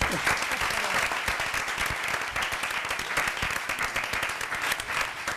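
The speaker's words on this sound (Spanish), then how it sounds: "Grandes, un aplauso." Sustained applause from a sizable crowd, with secondary-school students, fills the whole stretch, dense and steady clapping at close range with no pause.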